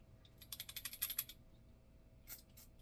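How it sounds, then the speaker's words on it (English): Tarot cards are shuffled in a quick burst of crisp riffling clicks, followed by a short pause and a few fainter shuffles, close up and quiet with no talking. "Yeah, I'm shuffling these."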